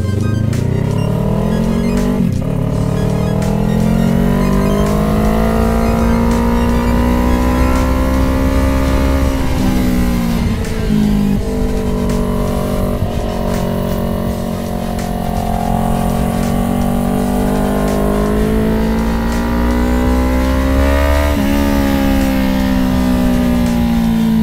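A Kawasaki Ninja 400 track motorcycle on a racetrack at Capuava revs and drones continuously, pitch rising and falling as it accelerates and shifts, loud and close throughout.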